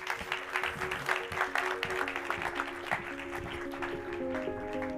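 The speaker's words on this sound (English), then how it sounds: "Let's give them a round of applause as they enter." Applause greets an orchestra as it enters at an awards ceremony, a moderate scattered clapping from the audience that continues steadily while sustained musical tones start up beneath it.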